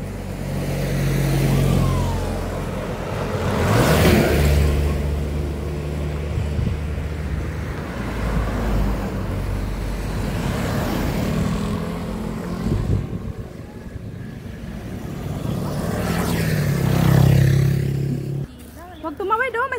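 A motor vehicle passes along the road near Mayang Falls in Cavite, swelling up and fading away twice beneath steady outdoor chatter and some wind buffeting.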